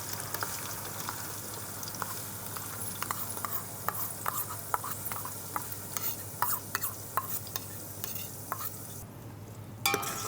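Onion paste for capsicum chicken curry fries in a pan with a soft, continuous sizzle. A spoon stirs and scrapes in repeated knocking strokes, and a faint hum runs underneath.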